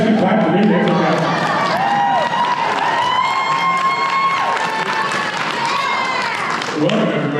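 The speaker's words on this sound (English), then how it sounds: "You guys can clap for me." A crowd at an Attack on Titan convention panel claps and cheers loudly for several seconds, with shouts and whoops rising over the clapping throughout.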